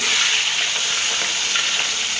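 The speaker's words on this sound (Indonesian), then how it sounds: "Oke, ini kita goreng ikan masinnya dulu." Salted fish fries in oil in a pan with a loud, continuous close sizzle and crackle, and there is no talking.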